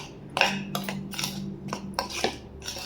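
A spoon clinks and scrapes against a bowl while stirring sifted flour for an oven-free fruit cake, with a run of light, irregular taps close by and no talking.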